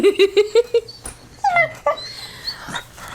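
A dog lets out a quick series of high whimpering yips, then a few short barks and whines, close and fairly loud.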